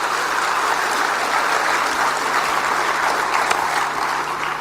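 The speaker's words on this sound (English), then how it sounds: "Let's give him a round of applause." A large audience breaks into sustained applause after a talk, a dense, even roar of clapping heard alone with no voices over it.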